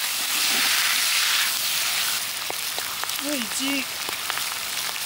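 Dried chili peppers tossed into a hot wok with cured pork (larou) sizzle in a steady broadband hiss outdoors at a cold high-altitude campsite, with a brief spoken comment and faint chirps partway through.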